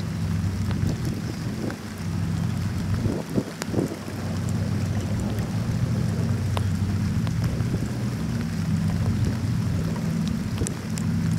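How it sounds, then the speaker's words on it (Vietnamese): Heavy rain pours steadily with gusting wind after a storm near a passenger ferry landing, joined by deep rumbles around the third and fourth seconds and scattered drops, with no voices. "Ở Gạch Giá mình mưa rất là nhiều luôn."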